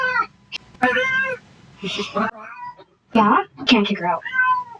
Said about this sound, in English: Look at this kitty.